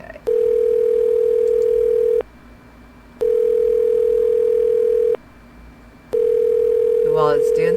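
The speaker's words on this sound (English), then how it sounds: "You will probably hear the Uber thingy ring." An Uber Conference call line rings with three long, even electronic tones separated by short gaps. Each tone is loud and steady, and a voice begins near the end.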